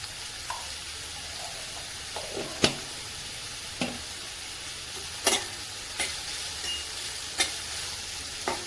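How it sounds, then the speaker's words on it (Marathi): Onion sautéing in a pan with a steady sizzle and hiss, broken by occasional sharp taps and scrapes of a spoon as it is stirred, all close by and without speech. "कांदा व्यवस्थित परतून घेऊया."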